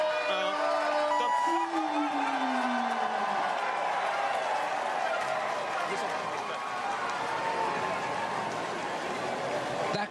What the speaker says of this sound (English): That crowd was cheering 5 seconds before he left the start house.